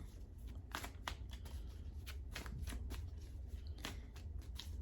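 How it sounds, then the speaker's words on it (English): A tarot deck is handled and a card drawn, giving a quiet run of papery shuffling, riffling and card snaps, close to the microphone and steady throughout, with no talking. "Let me pull another card."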